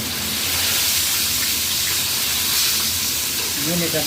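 Chicken pieces frying in hot oil, a loud, continuous hissing sizzle that stays steady throughout, with a brief voice-like murmur near the end.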